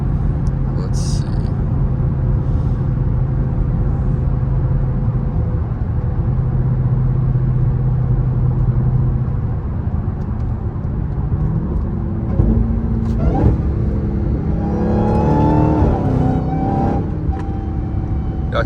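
Dodge Hellcat accelerating through morning traffic, heard from inside the cabin: a loud engine rumble with a steady supercharger whine that climbs in pitch toward the end as the revs build.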